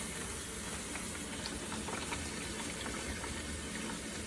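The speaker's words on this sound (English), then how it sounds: "now let's fill the carboy, the Fermonster, with water and see how it behaves" Water pouring into a Fermonster plastic carboy holding oak chips, a steady, even rushing and gurgling fill that runs unbroken at a moderate level with no voices.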